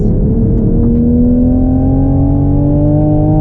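A Toyota Supra Prototype accelerates hard on the Circuito del Jarama race circuit, its loud engine heard from inside, droning steadily with a rising whine, alone without talk.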